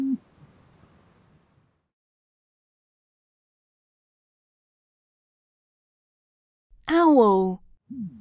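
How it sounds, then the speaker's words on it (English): An owl gives a single loud, close hoot after a long stretch of silence, preceded by a faint brief vocal sound and followed by a short second call. "Owl."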